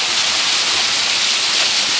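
Pinnapuram waterfall near Nandyal, Andhra Pradesh, roars as a loud, steady wash of falling water, heard close and unbroken with no talking.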